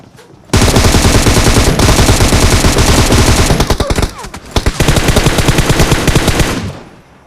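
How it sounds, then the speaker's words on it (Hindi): Sustained automatic gunfire in a video game firefight inside a house, dense rapid bursts filling about seven seconds with a brief lull midway, loud and close. "बंदे आगे वाले घर में एकदम दबादब फायरिंग कर रहे थे"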